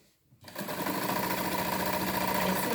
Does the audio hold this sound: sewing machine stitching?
yes